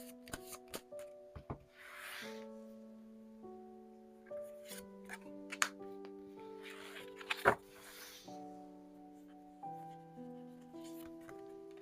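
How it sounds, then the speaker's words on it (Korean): Tarot cards are shuffled and drawn in brief, soft rustles and crisp snaps, with a louder flick near the middle, all under gentle melodic background music. "카드를 뽑아보도록 하겠습니다"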